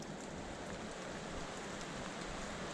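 Steady rain falling on a hiking trail, a continuous even patter with no distinct drops standing out, moderately quiet and unbroken throughout.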